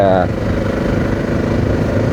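A Honda XR600R dirt bike engine idles close by after pulling to a stop on a trail ride, a steady low rumbling throb; someone talks over it.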